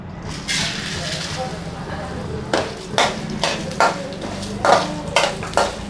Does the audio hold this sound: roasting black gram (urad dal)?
yes